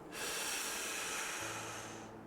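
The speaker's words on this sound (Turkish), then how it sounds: "Bir nefes alman istiyorum sadece kocaman." One long, deep breath drawn in during a guided relaxation exercise, a soft, close, airy hiss lasting about two seconds with no talking over it.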